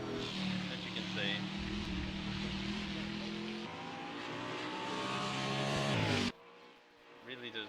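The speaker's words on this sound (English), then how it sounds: "Really does sound like a GT3 car." GT3-style racing car engine revving in a sim racing game, a sustained loud drone with rising and falling pitch that cuts off abruptly near the end, followed by quieter engine bursts.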